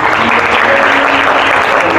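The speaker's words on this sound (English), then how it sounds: "just give yourself a warm round of applause for being here" An audience at a motivational anniversary event breaks into warm applause, a dense, loud, steady clatter of many hands clapping for two seconds.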